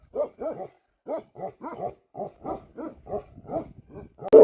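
Bhotia dogs bark aggressively in a rapid series of about a dozen loud, close barks at leopards nearby, with a sharp louder burst at the end.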